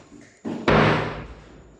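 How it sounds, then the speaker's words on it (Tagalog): A door being installed during carpentry work makes a sudden loud bump, then a heavy knock or slam that decays over about a second, with a fainter thud just before it. "Bali, paglagay na tayo ng dalawang pinto."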